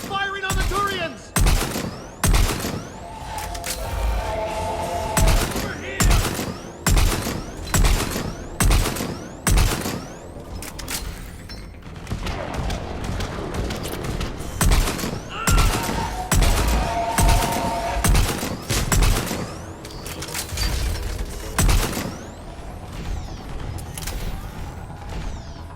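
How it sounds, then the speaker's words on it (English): Harvesters fire on Turians in Mass Effect 3, a loud barrage of rapid, repeated heavy shots and booming blasts pounding nearly continuously, with brief lulls and a voice calling out over the chaos. "Harvesters firing on the Turians!"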